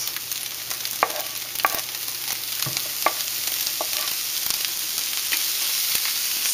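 Garlic and portobello mushrooms sizzling in a pan, a steady bright hiss broken by repeated scrapes and clicks of a utensil stirring, close and clear with no voices over it.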